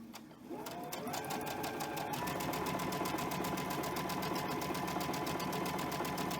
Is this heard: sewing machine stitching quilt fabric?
yes